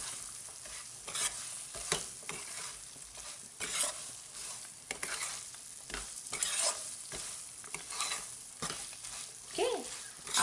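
A spoon stirs a chickpea flour burfi mixture in a pan over low flame, with repeated scraping strokes in an irregular rhythm over a soft, steady sizzle, close and moderately loud.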